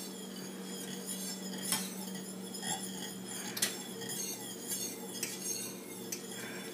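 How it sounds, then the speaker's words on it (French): Doughnut batter being mixed in a bowl, with repeated metal utensil clinks and scrapes against the bowl over a steady low background hum, a few sharper knocks standing out. "Mélange pour 3 minutes."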